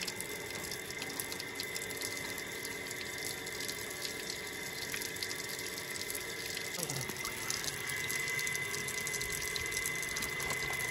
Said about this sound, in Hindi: तो मोटर हमने चला दिया ताकि फ्रेश पानी जो है वो आ सके